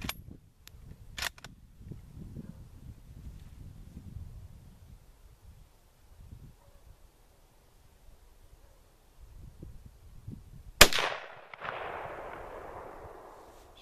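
A single loud shot from a Mauser K98 bolt-action rifle at an outdoor range rings out sharply and trails off in a long echo, preceded by quiet rustling and small clicks of handling.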